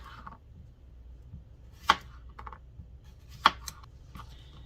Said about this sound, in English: now that I have washed the cucumbers, I'm going to start slicing them